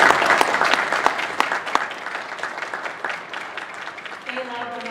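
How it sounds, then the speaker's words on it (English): Audience applause after a youth string orchestra's spring concert, a steady mass of claps from a large crowd that fades toward the end as a sustained tone and some voices come in. "let's go ahead and give them a quick shuffle and round of applause"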